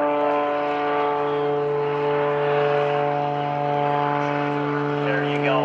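A steady, droning propeller aerobatic airplane engine holds a constant pitch while the plane hovers nose-up at the 2012 NAS Oceana Airshow, loud and close, with no breaks.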